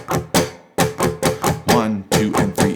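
Guitar riff in 6/8 time built on sixteenth notes, played as sharp strummed chord hits in a steady lilting rhythm, loud and close with no voice over it.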